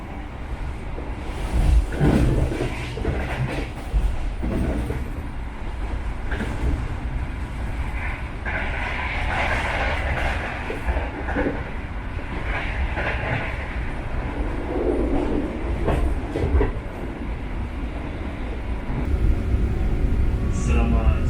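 Bangunkarta passenger train with older carriages rolling along the rails, steady rumbling and rhythmic clickety-clack heard from inside the coach, continuous and fairly loud for the whole stretch, with faint voices mixed in.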